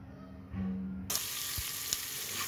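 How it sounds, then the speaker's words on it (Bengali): Onion, garlic, cardamom and cinnamon hit hot mustard oil, bursting into a loud steady sizzle that holds close and even after a quieter start, with a couple of faint knocks and no talking. "এখন আমি তেলের মধ্যে পেঁয়াজ রসুন সব কিছু এলাচ দারুচিনি ভালো করে ভেজে নিচ্ছি।"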